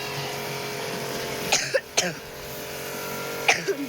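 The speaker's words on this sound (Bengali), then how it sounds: "বিকট কাশি হয়েছে আমার।" A man coughs sharply several times outdoors near a river, the hacking bursts coming in two close clusters against a steady background hum.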